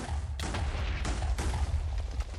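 Gunfire in Minecraft with HBM's Nuclear Tech mod sounds as several sharp, booming shots spaced across a couple of seconds over a low rumbling background.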